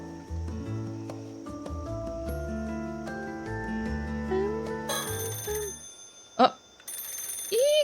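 A telephone rings in the horror video game Paranormasight: The Mermaid's Curse, with repeated electronic ring tones over game music, followed by a startled exclamation from a voice.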